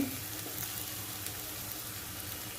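Asafoetida hits hot oil in a pan for a Maharashtrian val papdi vegetable dish, giving a steady, close hiss of sizzling that carries evenly through a short moment with no talk.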